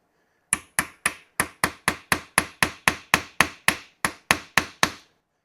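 A hammer drives a bit into a stripped fastener with about sixteen sharp metallic taps in a quick, fairly even rhythm, close and clear with no talking.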